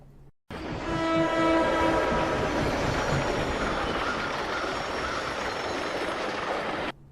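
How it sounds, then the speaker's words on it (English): Video-game train from Plants vs Zombies Garden Warfare 1: a loud horn blast sounds over the roar of a passing train, followed by sustained rumbling and rattling of cars that runs steadily until it cuts off, with no talking. "Remember that train in Garden Warfare 1 with the Normandy on it?"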